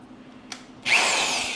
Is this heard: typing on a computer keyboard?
no